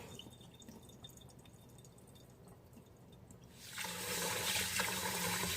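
Rinse water being poured off washed grits in a home kitchen: faint drips and trickling at first, then a louder, steady rush of water splashing out for the last couple of seconds.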